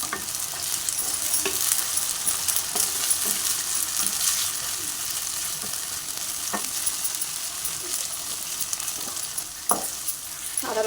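Ginger-garlic paste fries with mutton for an Eid curry, a continuous loud sizzle lasting about eleven seconds, with repeated stirring scrapes and clinks of the spoon against the pot.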